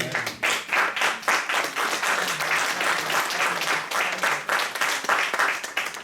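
A church congregation applauding and cheering during a service, dense continuous clapping from many hands at full volume throughout, with voices mixed into the crowd.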